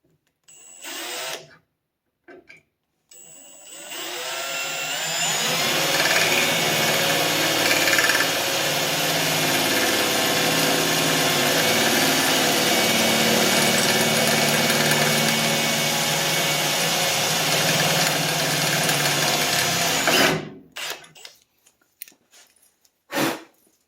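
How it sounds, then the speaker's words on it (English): A power drill boring a pilot hole, starting with a few short bursts, then a loud steady whine held for about fifteen seconds before stopping with a few brief spurts at the end. "I can't use a piece of tape until I drill the pilot hole"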